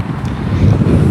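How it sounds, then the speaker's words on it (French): Strong wind blows across a golf course and buffets the microphone with a steady low roar for about a second, with no talking. "Il y a pas mal de vent aujourd'hui"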